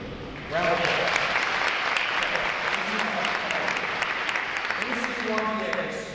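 Audience at an NROTC graduation ceremony giving a sustained round of applause, steady dense clapping that begins after a short pause with faint voices mixed in.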